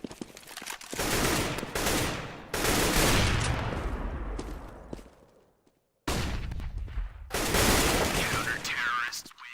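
Loud bursts of gunfire from an esports shooter match, dense rapid firing broken by short pauses and a silent gap, with faint commentary underneath.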